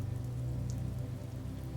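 Steady, close rain patters on a surface through a rainy night in Salem, an even hiss of droplets with no pauses or voices.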